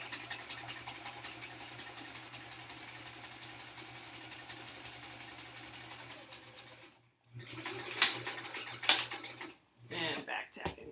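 A sewing machine stitches a quilt block in a steady, even mechanical hum that runs for several seconds, stops abruptly, then gives way to a few short bursts of movement and handling noise.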